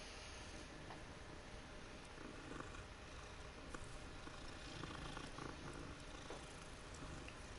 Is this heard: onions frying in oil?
no